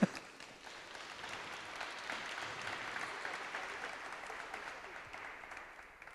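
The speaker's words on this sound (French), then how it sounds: "Je crois qu'on peut l'applaudir." Applause from a conference audience, a steady patter of clapping that starts suddenly and holds at moderate, fairly distant level throughout, with no voices over it.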